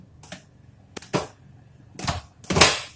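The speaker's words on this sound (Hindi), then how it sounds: "ये आवाज जो है ना इसे लॉक हो गया है ना" Plastic lid of a food processor snapping into its locked position, heard as a few sharp separate clicks, the last the loudest, close by with no talk.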